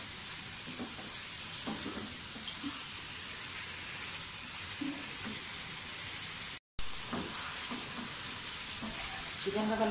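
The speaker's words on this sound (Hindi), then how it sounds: "थोड़ा सा कलर चेंज हो जाए तब तक इसको भूने।" Chicken for biryani fries in a pan with a constant, close hiss of sizzling oil. Faint stirring clatters come and go beneath the steady sizzle throughout.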